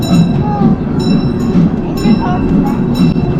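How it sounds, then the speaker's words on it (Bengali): An amusement park train at Europa Park carrying riders between areas of the park, with steady rumbling running noise and periodic clanking, a voice talking over it nearby. "এক এরিয়া থেকে আরেক এরিয়া যেতে এই ট্রেনটা ইউজ হয়"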